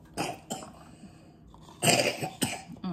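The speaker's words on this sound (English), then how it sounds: "so excuse her coughing" A young child with an illness of about a week coughs several times in short, sharp bursts, close by, with quiet pauses between the coughs.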